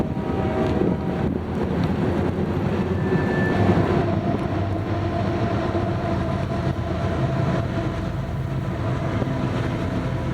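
An eastbound freight train rolls past at close range in snowy, windy weather, a steady heavy rumble filling the whole stretch with rail noise, wind buffeting the microphone and a brief high squeal midway.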